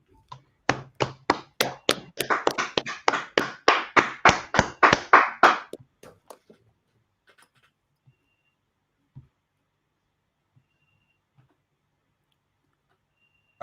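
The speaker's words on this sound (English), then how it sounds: "Okay, clap it up." A small class group claps hands together, with loud, dense, rhythmic clapping for about five seconds before it trails off into a few scattered claps and then near silence.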